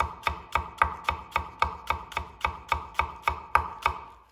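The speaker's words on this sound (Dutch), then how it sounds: "In de Japanse keuken doen ze heel veel zo snijden. Kort, super fijn," A knife finely chopping negi (spring onion) on a board with the short, pressing Japanese cut: a steady run of about fifteen crisp, evenly spaced chops, close and clear with no talking.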